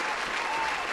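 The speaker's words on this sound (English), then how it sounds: "Round of applause for this man." Brief, dense applause from a small studio group during a podcast episode, a second of steady clapping with no break.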